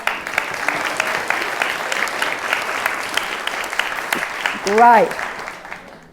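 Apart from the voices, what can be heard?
audience applause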